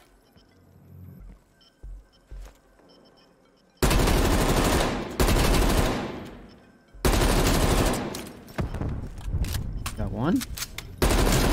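Heavy gunfire in Call of Duty Zombies Outbreak mode erupts in loud, sustained bursts with brief gaps after a few quiet seconds of sparse sound, with a short spoken question near the start.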